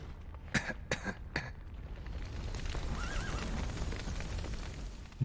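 Horses in The Witcher 3 video game whinny and snort amid a few sharp thuds at the start, then a drawn-out neigh rises over a steady rumbling background, fairly close and without speech.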